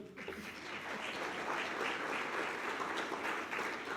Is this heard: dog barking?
no